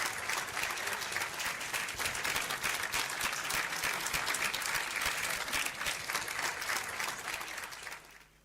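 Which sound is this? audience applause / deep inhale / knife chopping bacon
audience applause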